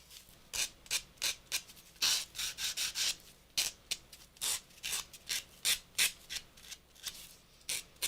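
A recycled Christmas tag is sanded by hand in quick, repeated rubbing strokes, each a short raspy swipe in a steady back-and-forth rhythm, close and fairly quiet, with no talking.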